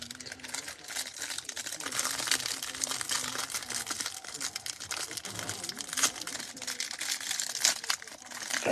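Box of trading cards being opened: continuous close crinkling and crackling of plastic and cardboard packaging, with irregular handling rustles throughout.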